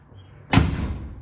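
The door of a 1956 Chevy truck under rust repair swings shut with a single loud, solid slam, which rings out and fades into a short decaying echo after a quiet moment.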